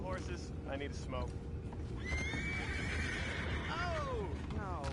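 A horse whinnies in the video game Red Dead Redemption II, giving a long rising-and-falling neigh and a second short whinny, with hoof clops and a low ambient rumble beneath, close and clear.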